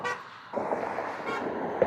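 Car horns honk repeatedly, a short blast at the start followed by a longer, loud sustained honk and another brief toot near the end, close and prominent.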